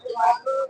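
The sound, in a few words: male pigeon cooing at pigeon market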